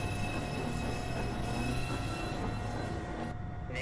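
A New York City subway Express 2 train at Beverly Road station, a steady loud rumble of cars rolling through with faint wheel squeal, continuous and close for the whole stretch.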